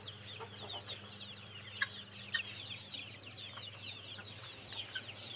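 Chickens cluck softly on a home farm, scattered short calls repeating at a moderate distance over a steady low hum, with no talk.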